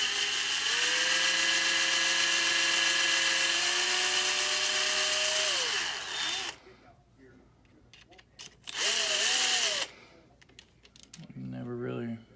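A power case trimmer cuts brass cartridge cases for reloading, giving a loud steady motor whine with a rising and falling pitch, then a pause and a second short burst, with a voice speaking briefly near the end.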